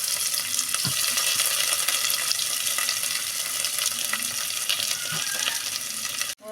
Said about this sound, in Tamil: நம்ம இப்போ வெங்காயம் இந்த அளவுக்கு வதங்கிச்சு